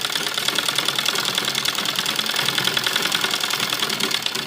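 A sewing machine runs steadily, stitching a folded strip along the neckline of a kurti made from an old dupatta, producing a continuous close rapid mechanical chatter without pauses.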